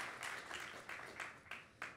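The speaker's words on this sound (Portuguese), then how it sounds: "Dá uma salva de palmas bem calorosa, bem bonita." A church congregation clapping to welcome Pastor Elias, a faint, distant wash of applause pulsing in a steady rhythmic beat.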